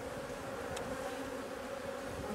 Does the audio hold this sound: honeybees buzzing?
yes